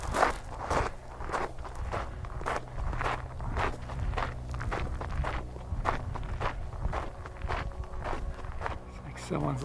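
Footsteps walk along the low-water shore of Buttle Lake, a lakeshore strewn with driftwood in Strathcona Provincial Park on Vancouver Island. The close, steady walking rhythm continues throughout, with voices faint in the background.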